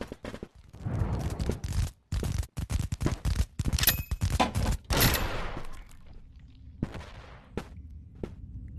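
Grenade explosions in the video game Animal Company: a dense burst of loud, booming blasts over about five seconds, then a few sparser, sharper bangs as things quiet down.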